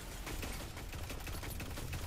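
A Quicksilver gun firing rapidly in a Destiny 2 Crucible match, a dense continuous burst of shots at steady loud volume with no pauses and no talking.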